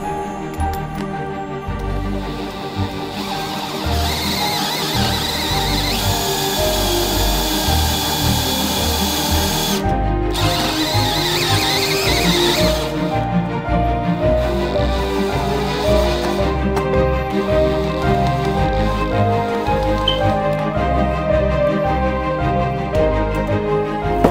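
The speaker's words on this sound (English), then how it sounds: "These are stepper drills." Stepper drill boring through a metal grille part for a 1/6 scale Armortek Tiger 1 tank model, a loud continuous power-tool whine lasting the whole stretch with brief dips and changes in pitch.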